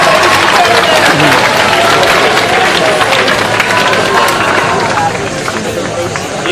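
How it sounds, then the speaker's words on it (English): Loud, dense applause from a sizable audience at a sword swallowing show, steady clapping with some crowd noise and cheering throughout, easing slightly near the end. "Give her a round of applause, ladies and gentlemen."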